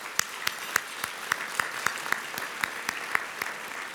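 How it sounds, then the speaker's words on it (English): Audience applause at the Summer Rise closing ceremony, a steady wash of clapping with sharp, regularly spaced claps standing out near the front over about four seconds. "Let's give a round of applause."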